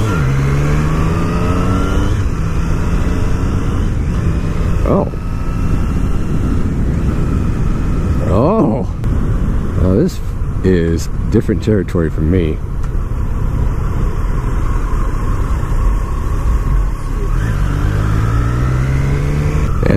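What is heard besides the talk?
2019 Triumph Street Triple R motorcycle engine riding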